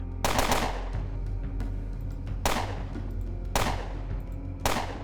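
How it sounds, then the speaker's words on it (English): Rapid-fire gunshots in the video game Underrail, sharp loud bursts repeating in a steady rhythm about once a second, each with a quick decaying tail. "So let's use our Rapid fire."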